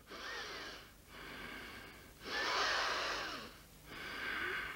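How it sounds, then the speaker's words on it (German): A voice pants and snorts heavily in four long, loud breaths, each rising and falling like a winded puffing, alone without talk. "ganz außer Atem. Schnauf! Schnauf fest!"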